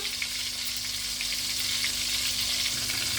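Steady crackling sizzle of eggplant frying in hot oil for baingan ka bharta, close and continuous with no talking.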